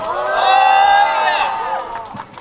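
A crowd bursts into cheering and whoops as K League 1 football players are introduced, voices swelling together before fading, with scattered clapping underneath.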